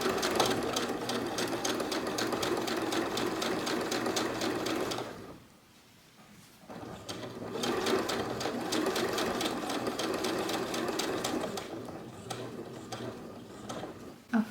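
A sewing machine stitches a bag with fast, rhythmic mechanical ticking in two bursts split by a short pause, then continues more softly, close and clear with no talking.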